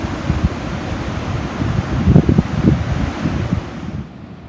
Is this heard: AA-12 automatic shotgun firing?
no